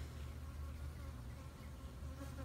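Honey bees buzzing around an open hive during a varroa mite check, a steady, continuous low drone that holds unbroken throughout, close and fairly soft, with no voices.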